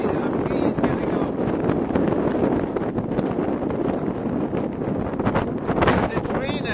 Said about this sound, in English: It's really windy, there's a breeze getting up.